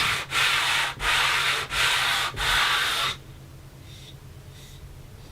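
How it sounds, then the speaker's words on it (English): Long wooden pieces are sanded with a homemade sanding beam: four loud, close rasping strokes in even rhythm, each split by a brief pause, then quiet with faint scraping. "This allows me good access when I'm sanding long pieces."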